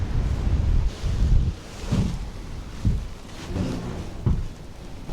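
Gusty wind buffeting the microphone outdoors on a spring hike in New Zealand, low rumbling bursts rising and falling in uneven waves with no voices.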